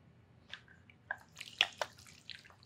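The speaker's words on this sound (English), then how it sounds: "On top of this, I'm going to drizzle some oil on top of it." Regular vegetable oil is drizzled over spare ribs for steamed dim sum, giving a few faint, scattered wet drips and soft splatters at close range in an otherwise quiet setting.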